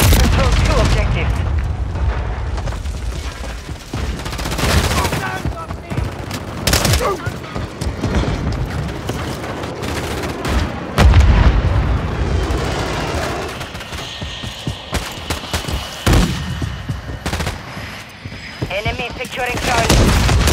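Heavy artillery fire mission in Call of Duty Modern Warfare 3 (2023) on the Shoothouse map: a dense fusillade of explosive booms and rattling gunfire, loud and continuous throughout, with in-game voice callouts over the top.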